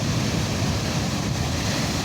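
Ocean waves surge and break on a Turkish shore, a loud continuous roaring wash with wind buffeting the microphone and no talk.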